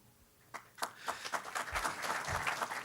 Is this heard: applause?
yes